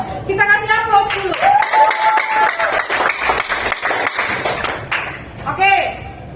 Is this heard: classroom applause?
yes